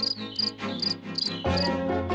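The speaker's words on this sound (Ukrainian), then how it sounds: "І цвіркун дуже гарно засюрчав." A cricket chirps in quick repeated bursts of high, bright trills over a soft, sustained musical background, fairly close and steady.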